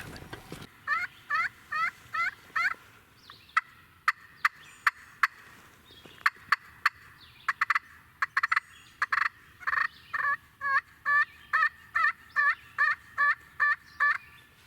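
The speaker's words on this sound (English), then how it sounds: "He's only gobbled a few times, but it's still real early." A wild turkey gobbles repeatedly in bursts, fairly close and loud, each rattling call answered by more in quick succession against quiet woods.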